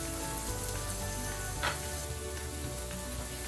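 Red potato pieces frying on a low flame for a beef masala, a steady dense sizzle and crackle of oil throughout, close and continuous with no talk.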